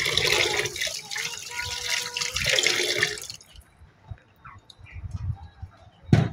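Tap water runs into a kitchen sink while food is washed clean during breakfast cooking, a steady hissing stream for about three seconds, then quieter splashes, drips and handling noises nearby.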